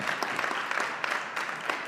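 Audience applause at a startup competition expo, steady dense clapping from a crowd that continues without a break.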